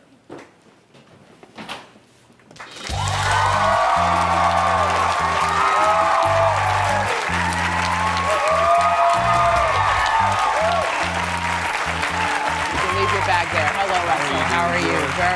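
A crowd in a studio audience breaks into loud, sustained applause and cheering after a brief quiet start with faint voices, the dense clapping holding steady and close to the end.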